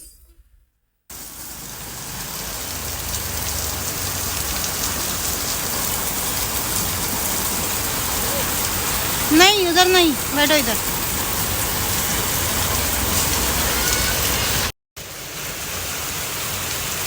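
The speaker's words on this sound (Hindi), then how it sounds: "बारिश एकदम बहुत ज्यादा हो रही थी आज।" Steady, dense hiss of heavy rain pouring throughout, with a few short voices speaking briefly partway through.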